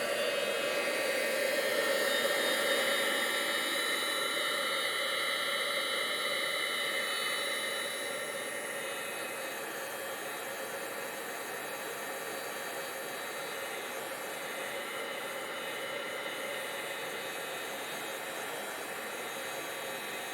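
A heat tool blows hot air steadily while a card is being made, a continuous close whooshing hiss that eases slightly partway through and then holds level, with no talking.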